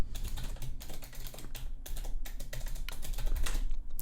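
Steady, rapid clatter of keys as a password is typed on a computer keyboard, close and continuous for a few seconds with no talking.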